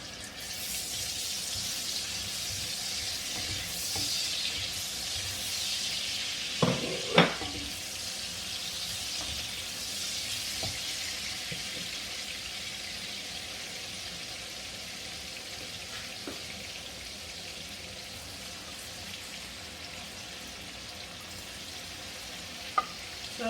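Chopped onions sizzle in hot oil in a pan while pasta with cabbage and bacon is cooked, a steady close frying hiss with a few clanks of a utensil stirring, no voices.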